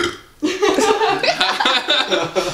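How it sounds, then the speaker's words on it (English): A loud, close burp breaks out suddenly and rumbles on in a long, uneven gurgle, mixed with a bit of chuckling. "Sorry, I got a burp."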